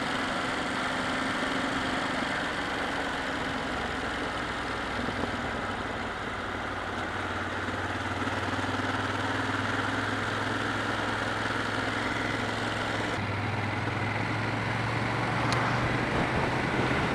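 A Ducati Monster S motorcycle engine under way while riding, a steady, unbroken drone mixed with rushing wind, its pitch shifting slightly partway through and no voices over it.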